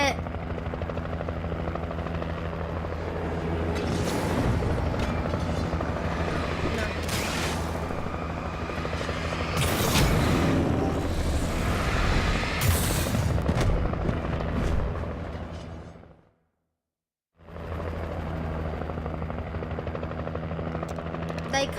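Helicopter in the Alan Wake video game, a loud, steady rotor thump and engine roar mixed with booms and bursts of gunfire. It cuts out briefly to silence near the end, then resumes.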